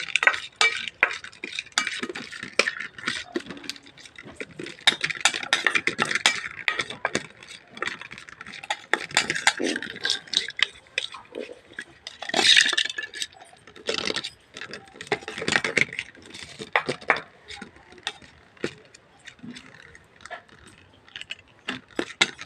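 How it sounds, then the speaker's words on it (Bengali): A metal spoon stirs and mixes a food dish in a pot, producing irregular scraping and clinking strokes that come in bursts with brief pauses, close and fairly loud. "চামচ দিয়ে নাড়ছি, দেখুন এটাকে ভালো করে মিক্স করা হচ্ছে।"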